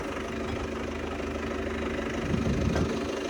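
A tractor engine idling after being started, a steady low rumbling drone with constant knocking texture, fairly close and unchanging, with no voices.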